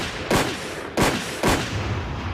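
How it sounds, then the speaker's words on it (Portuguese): Three loud gunshots ring out in quick succession, each with a short echoing tail. "não 3 tiros. 8 tiros para matar Mark Achille."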